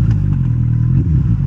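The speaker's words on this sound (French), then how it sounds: "Et pourtant ma moto est super bruyante" A loud motorcycle engine runs close by with a steady, gritty mid-pitched drone and some clattering, continuous throughout the short stretch.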